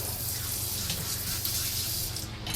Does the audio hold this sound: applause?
no